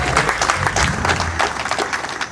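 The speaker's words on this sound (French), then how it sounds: "S'il vous plaît, acclamez encore le Seigneur pour ça." Applause from the guests at a golden wedding anniversary celebration, a dense steady clapping that fills the whole stretch without pause.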